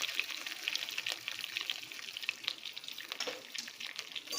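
Curry leaves and a generous pinch of asafoetida crackle and sizzle in hot oil, a steady close frying hiss with scattered pops running throughout, no voices.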